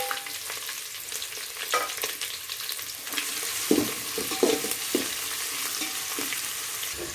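Onion, ginger garlic paste and curry leaves fry in a pan for tomato pulav, giving a steady crackling sizzle with a few louder spattering bursts partway through and no talk.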